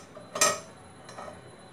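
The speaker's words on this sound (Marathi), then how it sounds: "आता आपण यामध्ये केकचं मॉल्ड ठेवणार आहोत।" A metal cake mould is set onto a stand inside a pressure cooker, giving one clear metallic clink followed by a softer tap about a second later, quiet and close.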